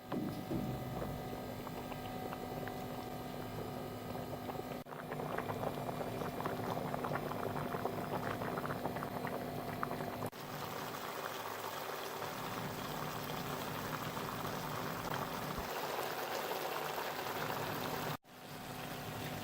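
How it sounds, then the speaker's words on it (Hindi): Beef yakhni pulao rice cooking uncovered in a pot, a continuous close bubbling and crackling boil that stays steady, with brief dips in level. "आप कवर नहीं करेंगे, इसी तरह चावल को पकाएंगे।"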